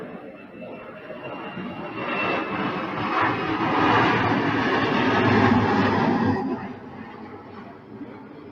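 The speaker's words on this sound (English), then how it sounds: "Another plane." An airplane passing overhead above a townhome garden, a broad roaring rumble that swells steadily to a loud peak, then cuts back sharply and lingers faintly, with no talk over it.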